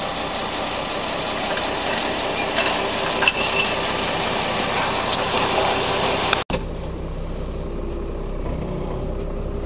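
Inside the cab of an Iveco Eurocargo milk collection truck, the diesel engine hums and rumbles steadily at close range, with a brief cut partway through.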